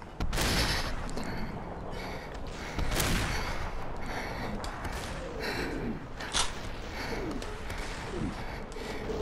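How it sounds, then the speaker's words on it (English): Gunfire and blasts from enemies bombarding the player in the SUPERHOT VR game, a dense run of loud overlapping shots and booms with short gasps and breaths mixed in. "they're all bombarding me"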